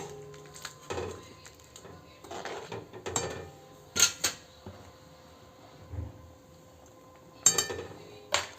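Masoor amti being made: a spoon scrapes and clinks against a pan while onion-garlic masala and sambar masala are mixed in, giving scattered metallic taps and scrapes with quiet gaps between them.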